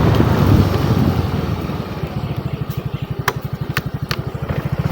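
Motorcycle riding along a village lane, its engine pulsing in a fast, steady putter close by, with wind buffeting at first and a few sharp clicks over the engine.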